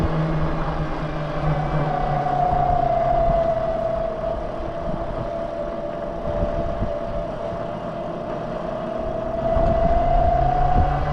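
A Quietkat Apex Pro hunting e-bike's electric motor whines steadily while climbing a punchy hill. The tone dips in pitch and then rises again over a constant rush of wind and tire noise.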